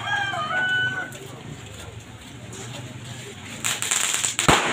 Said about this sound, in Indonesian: main mercon